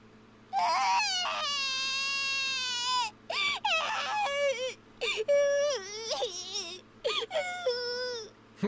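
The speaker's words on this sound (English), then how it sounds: "Suddenly, I heard a child crying." A child crying in the visual novel game If My Heart Had Wings, loud drawn-out wails broken into several sobbing bursts with short pauses between, close and alone.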